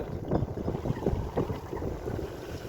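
Wind buffets the microphone with a low, rumbling roar, steady westerly gusts pushing through along with faint water and boat noise on a boat outing.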